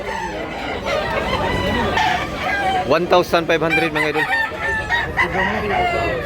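Chickens and a bullstag rooster clucking with a loud, close crow rising in the middle, while someone talks over the birds.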